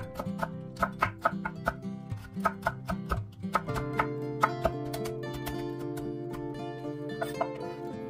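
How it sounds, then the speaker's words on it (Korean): A knife thinly slices green and red chili peppers with quick, evenly spaced chops, then settles into a steadier run of cuts, all under soft background music. "풋고추와 홍고추도 얇게 송송 썰어주세요."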